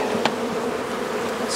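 A steady, close droning buzz of bees from a hive being split fills the clip, continuous and fairly loud with no speech.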